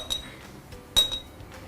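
A tablespoon clinks against a glass jar while stirring yogurt, two or three bright, short metallic taps spaced apart in a quiet room.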